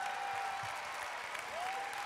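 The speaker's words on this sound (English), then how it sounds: "give all our contestants a great big round of applause" Crowd applause rings through a basketball arena during a Mavericks halftime game, a continuous, even roar of clapping with a faint whistle-like tone running through it, moderately distant.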